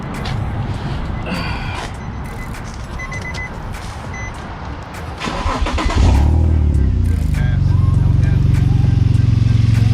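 Nissan VQ35 V6 engine, fitted in an S13 and checked for misfire, cranks and catches around six seconds in, then settles into a steady, loud idle; workshop noise and some talk come before the start.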